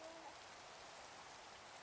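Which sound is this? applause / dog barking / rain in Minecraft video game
rain in Minecraft video game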